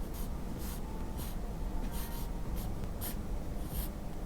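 Pencil strokes scratch across paper while a construction sketch takes shape, giving soft, steady scratching with brighter, brief stroke bursts spaced irregularly against a low background hiss.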